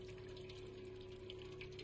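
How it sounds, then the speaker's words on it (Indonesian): A cat laps water from a dripping tub in the video game Stray, set against a steady low hum and a continuous trickling, pump-like flow of water. "Minum di bak ini ya, yang netes itu ya"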